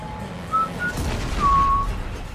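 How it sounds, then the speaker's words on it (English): Someone whistles a few short, casual notes during Dead Space 2, thin pitched tones over a low rumbling game background. "Just casually whistle."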